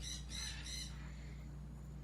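A fake bird toy lets out a loud, raspy squawk in a few quick bursts, then falls quiet over a steady low hum.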